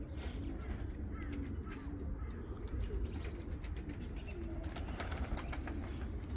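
Tumbler pigeons kept as play birds coo in a low, continuous burble amid a busy flock, with occasional wing flutters and faint background voices.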